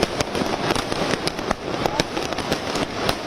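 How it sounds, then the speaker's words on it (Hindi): Fireworks display at the Mahakal Corridor inauguration in Ujjain, a dense rapid crackle of firecracker bursts and pops, loud and continuous throughout with no one speaking. "शानदार आतिशबाजी का ये नज़ारा आप देख रहे हैं।"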